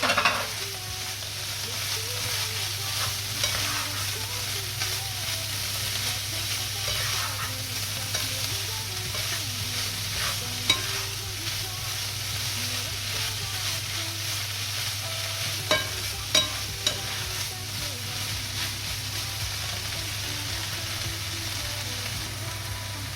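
Zucchini flesh fries in a pan with a steady, even sizzle while being stirred, with a few sharp utensil clicks against the pan standing out near the end.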